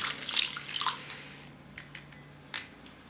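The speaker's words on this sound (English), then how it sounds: "now we stir it up" Borax and vitamin C being stirred into water in a container for a beeswax balm, a few light splashes and sloshes early on, then fainter scattered drips and taps with one sharper clink near the end.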